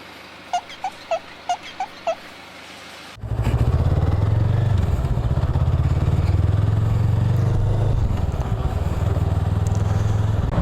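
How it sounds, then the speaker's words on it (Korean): A few faint high beeps, then a BMW 335 engine starts and runs steadily with a low, smooth hum close by. "엔진 필링은 엔진 소리 는 굉장히 조용하네"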